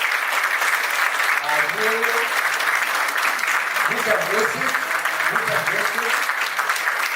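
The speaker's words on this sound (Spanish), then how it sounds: "Por favor, un fuerte aplauso" Sustained audience applause at a book presentation held by the Municipality of Pichilemu, a continuous even roar of clapping with a voice speaking over it.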